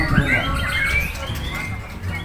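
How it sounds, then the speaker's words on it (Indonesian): Songbirds chirp in short whistled notes that rise and trill over a steady low background murmur, fairly close and moderately loud. "Burung kicau kini makin digemari kaum Adam di tanah air."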